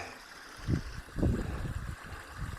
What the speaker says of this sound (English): Nice little waterfall down there.